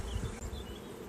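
Honey bees buzzing around a frame during a nuc hive inspection, a dense, continuous, close swarm hum with individual bees droning past, no talk.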